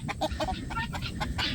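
Backyard laying chickens and guinea hens cluck and chatter continuously, several birds close by in overlapping bursts, with no one talking.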